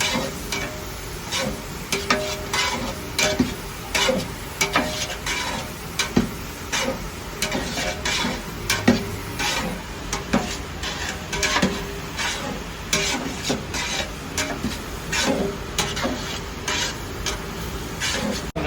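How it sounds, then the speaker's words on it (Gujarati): Green garlic roasting in a pan while being stirred continuously, a dense run of scraping and clinking strokes over a low sizzle, close and fairly loud, with no talking. "પંદરથી વીસ મિનિટ લીલા લસણને શેકવાનું"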